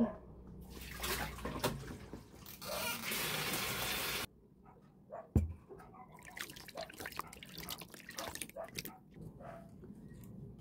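Water runs and splashes from a tap or container for about four seconds, loud and broadband, then gives way to quieter drips, small splashes and handling noises while preparing to wash the face before a cocoa face mask.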